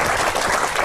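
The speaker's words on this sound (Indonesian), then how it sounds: "Tepuk tangan ya." A congregation at a Christian sermon breaks into brief applause, a short burst of many hands clapping that sounds loud and close.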